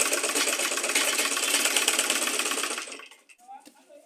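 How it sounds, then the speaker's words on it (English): A sewing machine stitches a handle onto a fabric tote bag in one continuous, close, fairly loud run of about three seconds. It then cuts off into quiet fabric handling noises. "You raise your handle up like this and you sew too."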